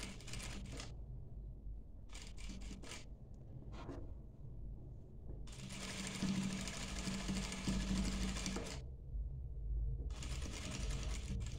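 An electric sewing machine stitching a dishdasha runs in four separate bursts of rapid mechanical chatter. The longest burst lasts about three seconds, with short quiet pauses between the runs and no voices.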